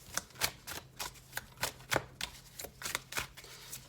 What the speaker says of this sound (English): And as soon as the cards are done shuffling,